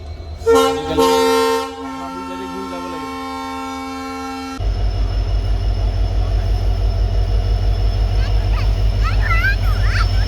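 A train sounds a few sharp horn blasts, then a loud, continuous low rumble and clatter takes over as it passes close by on the railway tracks, sustained to the end.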